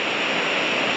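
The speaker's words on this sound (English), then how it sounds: "The creek beside me is very therapeutic" A creek flowing beside a campsite near waterfalls: a steady, dense rush of water, close and constant for a second with no voices.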